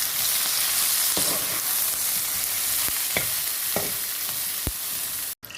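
Vegetables for a vegetable korma are lightly fried in oil. A constant bright sizzle hisses throughout, with a few soft stirring scrapes and a sudden brief cut near the end.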